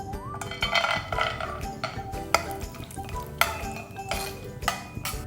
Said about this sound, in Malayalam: ഇത്തിരി കാഷ്യൂ നട്ട്സും കൂടെ നമുക്ക് ഇതുപോലെ തന്നെ റോസ്റ്റ് ചെയ്തെടുക്കാം